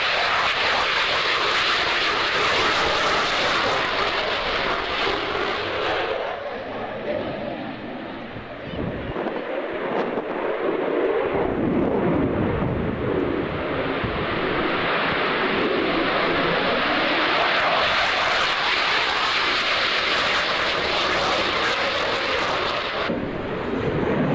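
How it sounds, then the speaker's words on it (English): Canadian F-18 fighter jets in D-Day markings take off with a loud, sustained roar that holds across the whole stretch, dipping briefly midway before surging again, with wind buffeting the microphone. "So then what do we have taking off at the moment? Looks like a couple of F-18s."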